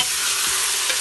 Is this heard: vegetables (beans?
yes